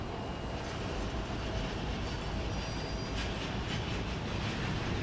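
An American Eagle regional plane taxis at Houston Intercontinental airport, giving a steady, broad engine rumble and hiss that holds at an even level throughout, with no voices.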